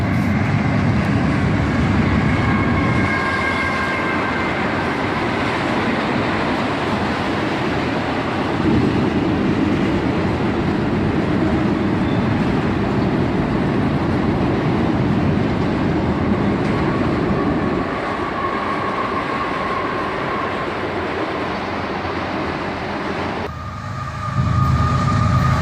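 Canadian Pacific freight train rolling across a railroad bridge at Carlisle Siding on a warm summer morning, a steady loud rumble and clatter of cars that continues throughout, close and unbroken, with no talk.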